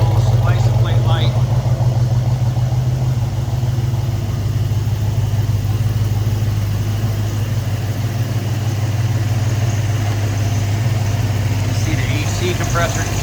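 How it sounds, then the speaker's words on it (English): A 1971 Plymouth Cuda 340 with dual exhaust idles steadily as its air-conditioning compressor kicks on, a low continuous engine hum shifting slightly early on, with a person talking over it. "Compressor kicked on"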